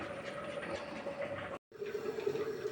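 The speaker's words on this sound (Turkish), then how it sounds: "Süzerek çorbama katıyorum." Beaten egg mixture for egg soup poured through a strainer into the pot, a steady close trickle and splash of liquid that breaks off briefly and then resumes.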